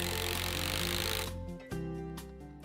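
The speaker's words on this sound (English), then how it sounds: "I'll attach the parts together with 3-inch deck screws." A power driver sinking 3-inch deck screws into wooden firewood rack parts, a noisy whirring burst that cuts off, followed by quieter clicks and rattles nearby.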